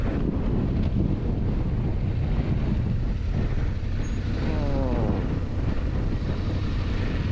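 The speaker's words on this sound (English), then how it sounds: "Did I mention it's super windy?" Strong wind on the Southern New Jersey bay shore buffets the microphone in a constant, loud roar, with rushing gusts and a faint watery or engine-like rumble underneath.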